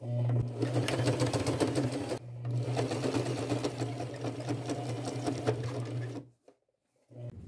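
Sewing machine running a small straight stitch to attach flower and bird appliques onto jeans, a steady close mechanical whir with rapid needle rhythm for about six seconds, a brief pause, then restarting.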